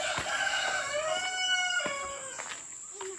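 A rooster crowing at Pudung bird farm in Kalimpong, one long, clear, harmonic crow at moderate distance, followed by a few short clucks and quiet surroundings.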